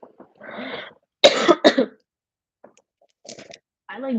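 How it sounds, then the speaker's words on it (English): A person coughs several times between short bits of speech indoors, the loudest a harsh burst in the middle, with a throat-clearing sound near the end. "I don't know why I'm coughing this whole time."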